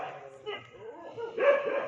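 Street dogs bark and whine at midnight while being fed biscuits, a few short yips and a louder bark close by near the end.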